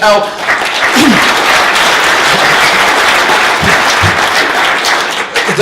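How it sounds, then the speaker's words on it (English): Loud, sustained applause fills a room at an automotive group conference, many hands clapping in a dense continuous wash, with a voice briefly heard over it. "So a round of applause for the guys"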